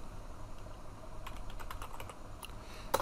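Close, quiet clicks from a computer keyboard come in a brief burst of keystrokes, followed by a final firmer press of the enter key.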